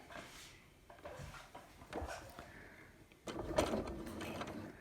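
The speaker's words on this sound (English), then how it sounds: "I'm going to sew a little bit further." A sewing machine with a rolled hem foot runs quietly over scarf fabric, a soft, faint mechanical whir in short stretches that grows slightly louder and steadier toward the end.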